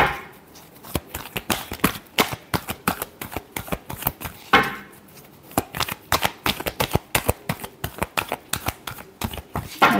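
Tarot cards being shuffled in a dense run of quick riffling slaps and flutters, close and fairly loud, with brief pauses between bursts and no talking.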